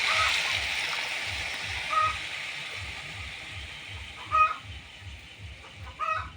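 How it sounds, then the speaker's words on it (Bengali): Water is poured into a pot of rice and lentil khichuri, a steady splashing hiss that fades over several seconds, with a few louder splashes and a low rhythmic background hum. "পানি দিয়ে দিচ্ছি।"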